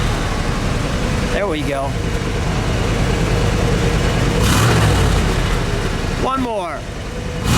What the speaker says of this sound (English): Let me hear that idle. Can you kick it down just a bit?